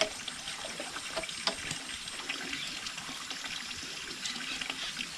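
Water is changed in a pan at a cattle farm, running and trickling steadily for several seconds, close and moderately quiet, with no voices.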